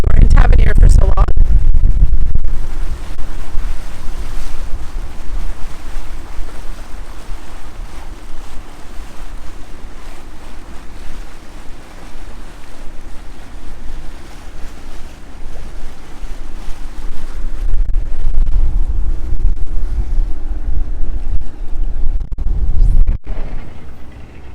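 Wind buffeting a microphone aboard a boat crossing Barnes Sound near Key Largo, Florida, a loud continuous rumbling roar with surging gusts, alongside water and engine noise.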